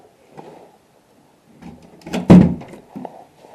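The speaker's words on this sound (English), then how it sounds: "As you can hear, looking at the doors as we go." Doors in an old building are opened and closed during a ghost hunt: soft creaks and a loud thunk as one swings shut, followed by a couple of lighter knocks, close by in an otherwise quiet space.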